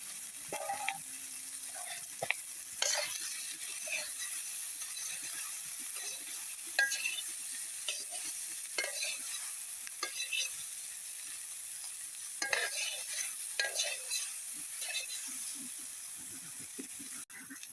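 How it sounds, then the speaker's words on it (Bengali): Soybean chunks fry in a pan with a faint, steady sizzle and hiss, broken by scattered scraping clicks from stirring throughout. "এখন এই যে সয়াবিনটা ভেজে নিবে ভালোভাবে।"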